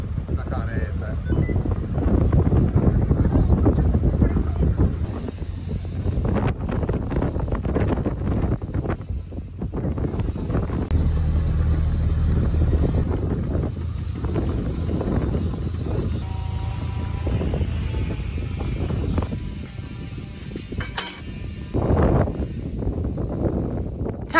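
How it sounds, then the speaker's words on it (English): Strong gusting wind buffets the microphone on a river boat after a storm, a heavy low rumble that rises and falls continuously across the whole stretch, with faint voices in the background. "it's just too windy. It's blowing the boat everywhere and it's so stressful"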